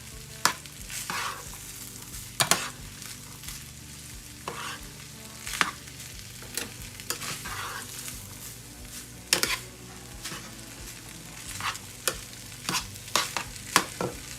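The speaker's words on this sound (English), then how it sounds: "now, I'm just stirring everything together" Ingredients with cooked rice are stirred together in a pan over a low sizzle, with sharp, irregular scrapes and clacks of a utensil against the metal recurring every second or so.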